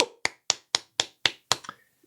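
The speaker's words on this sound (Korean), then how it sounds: "박수!" One person claps close by, seven sharp, evenly spaced claps at a quick steady beat, then silence, with no other sound around them.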